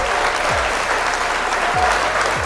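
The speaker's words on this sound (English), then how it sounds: "I just got to give it an applause." Dense, steady applause from a crowd, a stock sound effect of clapping, holding at an even loud level throughout with no pauses.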